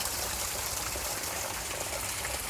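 Waterfall pouring into a garden pond in an exotic garden, a steady close rush and splash of falling water with no pauses.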